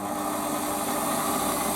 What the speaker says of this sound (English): Again, polishing on the lathe, not something that I like doing all the time, but very important to hold the emery cloth.